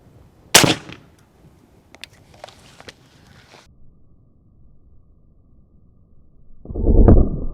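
A 5.56 rifle fires a Hornady Black 62 grain load into a gel block at 25 yards: one sharp, loud crack early on, a few faint clicks and rustles, then a second dense burst of noise near the end.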